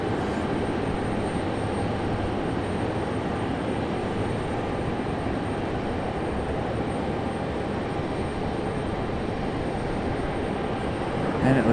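An Icelandair airliner passes at Raleigh-Durham International Airport, a steady broad engine roar holding at constant loudness throughout, with no talk.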